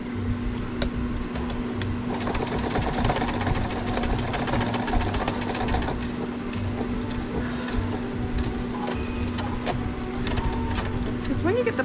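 A sewing machine runs steadily, stitching extra reinforcement into a thick, padded hot pad. There is a continuous motor hum with rapid needle clatter throughout, and a voice talks over it.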